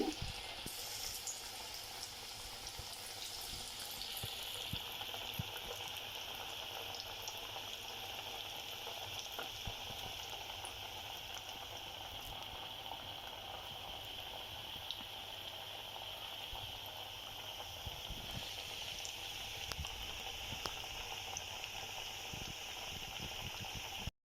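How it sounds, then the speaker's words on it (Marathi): Alu vadi, colocasia-leaf rolls, fry in hot oil with a steady, dense sizzle and bubbling that stays constant and close throughout, with no voices. "मी तुम्हाला अजून थोड्या तळून दाखवते."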